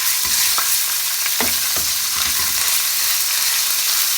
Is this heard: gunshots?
no